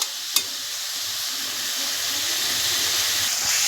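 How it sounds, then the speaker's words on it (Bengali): Onion frying in fish oil in a pan gives a steady, close sizzling hiss that swells slightly over time, with a single sharp tap near the start. "পেঁয়াজটা একটু ভেজে নেব"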